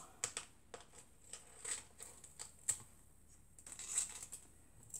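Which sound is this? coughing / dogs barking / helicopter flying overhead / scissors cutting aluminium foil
scissors cutting aluminium foil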